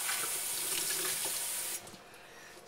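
Green juice poured and strained through a mesh bag, giving a steady rushing trickle of liquid that runs continuously and then drops off sharply near the end.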